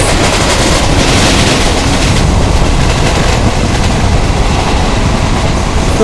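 Train running at speed on the Visakhapatnam route in the Trainz Simulator video game, a loud continuous rumbling roar with rhythmic wheel clatter, steady and close with no voices.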